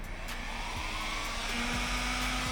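A heat gun blows hot air over vinyl wrap on a drift car, a steady close whooshing roar with a motor whine that shifts pitch partway through.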